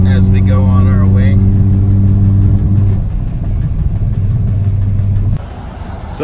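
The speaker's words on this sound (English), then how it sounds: "Hearing all these turbo noises as we go on our way." Turbocharged car cruising along the Interstate 10 freeway on a road trip, heard from inside as a loud, steady droning engine hum whose tone shifts partway through and drops slightly near the end.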